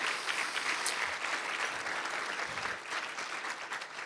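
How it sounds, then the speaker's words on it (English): A room of guests at a chamber of commerce awards dinner applauds together, a dense, steady patter of many hands heard at a moderate distance that slowly eases toward the end. "So huge round of applause for First Fed, who's been a long-standing presenting sponsor of this event."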